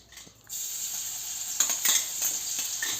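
Steady hissing sizzle of green chilies frying in hot oil in a kadhai, starting abruptly and continuing with occasional clinks and stirring crackles.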